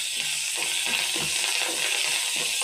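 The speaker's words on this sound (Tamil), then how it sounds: "இந்த எண்ணெயிலே போட்டு வதக்குவோங்க." Coriander leaves sauté in hot oil in a pan, a steady soft sizzle with faint stirring clicks, close and quiet with no talking.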